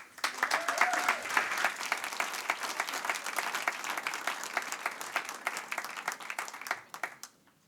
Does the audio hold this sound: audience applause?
yes